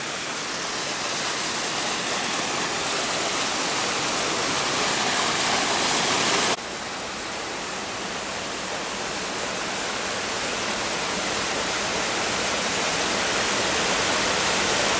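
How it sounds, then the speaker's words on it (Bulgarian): Skakavitsa waterfall roars with loud, steady rushing water close by, a dense unbroken wash with a slight drop in level partway through. "Ето ни тук на водопада."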